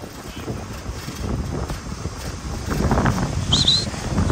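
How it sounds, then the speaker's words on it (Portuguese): Strong wind near the beach on a seaside promenade buffets the microphone in a continuous loud rumble that grows stronger toward the end, without clear talk. "eu percebo que tá ventando bastante, né? Normal, perto de praia assim"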